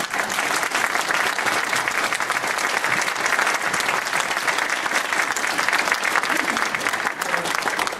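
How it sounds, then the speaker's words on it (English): Loud, sustained applause from a sizable conference audience after speakers, dense and steady clapping throughout with no break. "can we give them a hell of a round of applause?"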